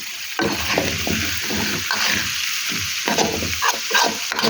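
A spoon stirring chunks of taro and squash in a cooking pot, repeated scraping and clacking strokes with a soft sizzle underneath, close and fairly loud.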